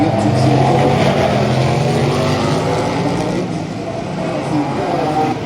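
A Porsche race car at the 24 Hours of Daytona drones past, a loud sustained engine roar heard from the spectator side, steady and close before easing slightly as it moves away.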